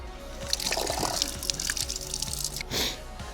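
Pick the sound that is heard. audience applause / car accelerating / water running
water running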